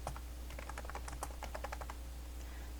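Fingers tap out a short title on a computer keyboard, with a quick run of crisp, close key clicks in uneven bursts, then a pause in a quiet room.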